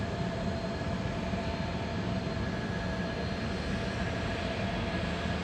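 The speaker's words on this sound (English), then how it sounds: "And just behind it, we've got this King Air taxiing out." A King Air turboprop taxiing at Adelaide Airport gives a steady, even engine drone with a broad rushing hiss, constant in loudness from start to finish and with no voices.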